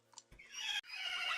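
A tier 2 horse in the Minecraft Mo' Creatures mod gives a single whinny after a couple of soft clicks: a bright, wavering neigh that rises and then trails down, briefly cut off, then carries on loud and close.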